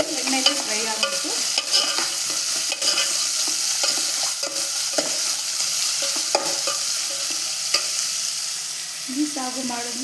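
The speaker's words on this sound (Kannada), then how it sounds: "ಎಣ್ಣೆಗೆ ಫ್ರೈ ಆಗಬೇಕು." A spiced mixture for puri sagu frying in oil in a pan, a loud close sizzle broken by repeated spoon scrapes and stirring knocks, with no voices.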